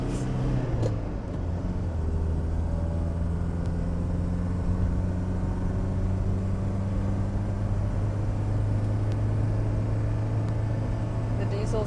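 A Mercedes W123 200d with a manual gearbox cruises on an open road, its diesel engine holding a steady, low, droning rumble throughout, with faint cabin noise and occasional soft clicks.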